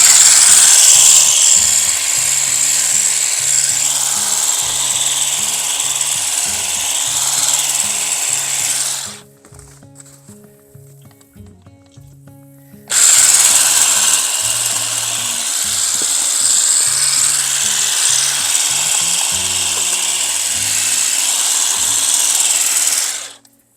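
Power trimmer cutting in a garden, a loud continuous whine that runs for several seconds, drops out briefly, then resumes just as steadily before cutting off.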